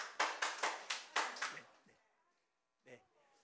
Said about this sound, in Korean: 우리 예배를 받으신 하나님 아버지께 영광의 박수 올려드리겠습니다